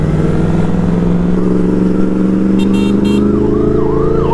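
A Yamaha R1 superbike with a loud exhaust blares continuously up close, its steady deep drone wavering as the throttle shifts, with no talk over it.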